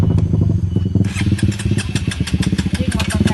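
A motorcycle engine runs steadily up close, its rhythmic mid-low chugging pulsing throughout while voices talk loudly over it.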